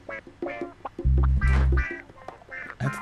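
Ducks quack several times in a shooting-gallery level of an old-style video game, sharp nasal calls arriving in quick bursts over a loud low electronic drone in the middle.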